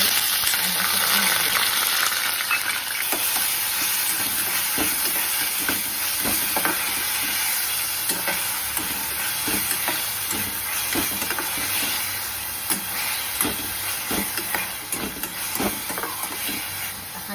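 Onion frying in hot oil with mustard seeds for a spiced potato dish, a steady loud sizzle and hiss with occasional stirring clatter throughout, no talking.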